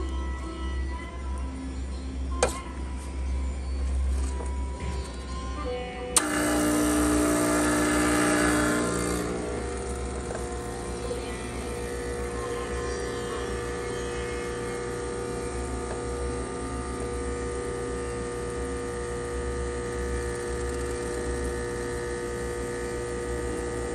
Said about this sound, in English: You can see we get a nice shot of espresso.